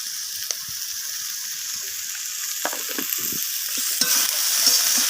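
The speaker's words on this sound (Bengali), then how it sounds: "লবণটা দিয়ে আমি আবারও সব কিছুর সাথে মিশিয়ে নিয়ে কষিয়ে নিচ্ছি" Ginger paste masala with salt is sautéed and stirred in a pan, a soft steady sizzle under light, irregular scraping and tapping of the spoon.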